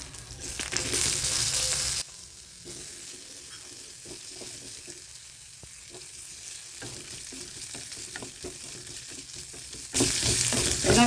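Chopped ginger, garlic and onion fry in a pan for a Tamil stalk chutney, a close, steady sizzle with scattered crackles and pops, louder at the start and end and quieter through the middle, with no voices.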